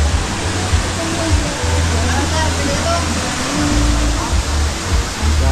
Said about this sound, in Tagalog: Grabe yung waterfalls ko.